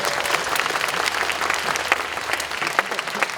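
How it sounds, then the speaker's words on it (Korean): Audience of students at a Korean memorial lecture applauding after a talk, a dense, steady wash of clapping with sharper individual claps standing out, sustained throughout at moderate loudness. "초정 선생님께 다시 한번 큰 박수를 부탁드리겠습니다"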